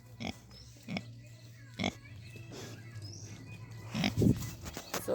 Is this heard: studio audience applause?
no